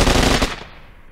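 A burst of machine gun fire is played over a phone line as a sound effect, a dense rapid rattle for about half a second that then trails off into a fading tail.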